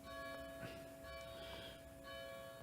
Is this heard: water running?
no